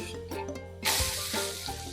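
A thalipeeth, a flatbread for a fasting meal, is flipped in a hot pan: a quiet moment, then a sudden loud sizzle that keeps hissing steadily close by.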